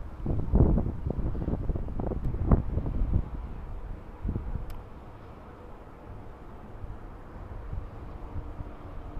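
Strong wind buffets a drone's microphone while it flies high over city streets, a continuous low rumbling roar with heavier gusts in the first few seconds, then a steadier, slightly quieter blustering.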